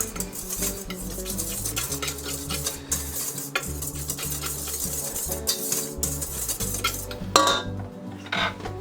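Utensil scraping and clinking around a bowl as sugar and a pinch of salt are mixed into babka dough, a steady busy rhythm of stirring and knocks with one sharper clatter near the end, close and no voices.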